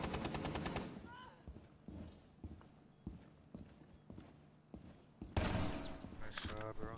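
Rapid gunfire in a Rainbow Six Siege match, with silenced weapons and red dot sights in use: repeated quick shot bursts with a louder volley near the end, while players talk over the action.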